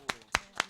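Three sharp claps from an audience at a live bookstore talk broadcast, evenly spaced and close, with no voices.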